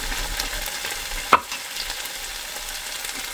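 Papaya, yardlong beans and potato fry in a pan with onion and turmeric, giving a steady, fairly quiet sizzle with one short scrape of stirring near the middle.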